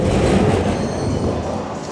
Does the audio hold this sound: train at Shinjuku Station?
yes